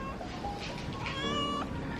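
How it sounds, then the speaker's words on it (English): A pet cat in a room gives one drawn-out meow, fairly close and clear over faint room noise. "Over here are my cats."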